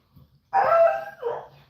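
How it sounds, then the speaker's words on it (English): A single dog lets out a loud two-part bark or howl close by indoors, with a faint rustle just before it. "Y'all hear my dog?"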